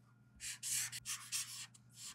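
A chisel-tip Sharpie paint marker drawn across a sticker, making a few close, soft scratchy strokes in quick bursts with short pauses between them, with no voices.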